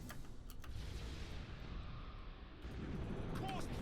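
Melta torpedoes fire in the space battle game Battlefleet Gothic Armada, giving a continuous, heavy rumbling roar of weapon blasts with scattered sharp bursts that swells slightly toward the end.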